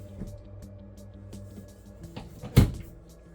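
A cabinet door in the bathroom of a 2023 Forest River Hemisphere 271RL travel trailer opens or shuts with a single sharp knock near the end, over a steady low fan hum.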